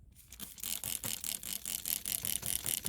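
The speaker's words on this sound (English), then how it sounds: "I have this little spray bottle here." A small hand spray bottle mists water over freshly planted seeds in a seed flat, giving a quick series of soft, hissing pumps in steady rhythm, close by and without voices.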